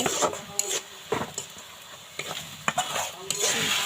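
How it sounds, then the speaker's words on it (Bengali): Turmeric fries in a pan for a pasta dish under a soft sizzle. Repeated close scraping strokes of a spatula stirring against the pan come in quick, uneven bursts, with no voices. "এখন এর ভিতরে আমি একটু হলুদ দিব হলুদ দিয়ে হালকা করে একটু ভেজে নিব"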